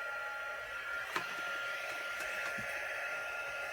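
An embossing heat tool runs with a steady, fairly faint blowing whir like a small hair dryer, broken by one brief click partway through.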